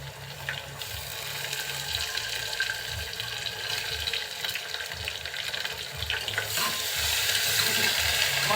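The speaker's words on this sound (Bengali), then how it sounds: "মশলাটা আমি একটু তেলের সাথে কষিয়ে নিয়ে যাবো যাতে মশলার কোনো কাঁচা গন্ধ না থাকে" Garlic and ginger spice paste frying in oil for a pressure-cooker duck curry, a steady close hiss and crackle with scraping stirring sounds running throughout, no talking.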